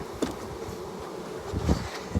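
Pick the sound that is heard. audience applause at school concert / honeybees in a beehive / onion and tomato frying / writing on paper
honeybees in a beehive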